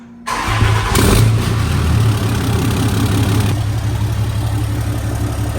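A third-generation Cummins 6.7 diesel cab-and-chassis truck with a 5-inch exhaust cranks and fires up, then settles into a loud, steady, deep rumbling idle close by, with no voices.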